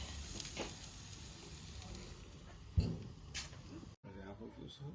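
Chicken sizzles on a barbecue grill with a crackling, hissing fry and a sharp knock partway through, while people talk over it nearby; a brief gap comes before the sizzle resumes.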